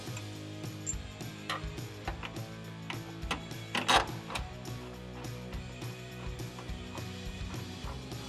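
A ratchet tightening a 15 mm bolt during a Roush lowering spring install on a 2005-2014 Mustang GT, with quick clicking strokes and faint mechanical taps, close but fairly quiet.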